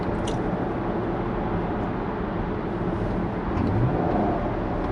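A Chevrolet Camaro SS rumbles on a test drive, its engine a deep steady roar with a slight swell in revs near the end, heard from inside or close by.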